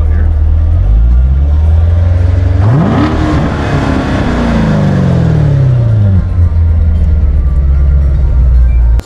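A red supercar's engine revs hard on the road, a loud rising and falling roar with a sweeping pitch climb and drop, heard close up from an onboard camera with constant wind and road rumble throughout.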